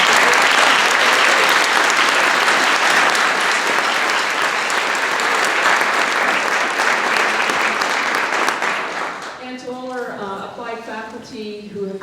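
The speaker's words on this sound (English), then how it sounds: "so how about a round of applause?" Loud, dense applause from a concert audience at a university symphonic honor band performance fills most of the stretch, then thins out as a voice begins speaking near the end.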